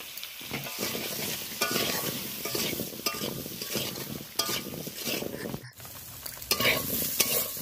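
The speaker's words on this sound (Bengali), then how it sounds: "আর আলুটা লবণ হলুদ দিয়ে ভেজে নেব।" Potatoes with salt and turmeric frying in a little oil in a wok, a steady close sizzle with the scrape and clatter of stirring running throughout, briefly cutting out near the end.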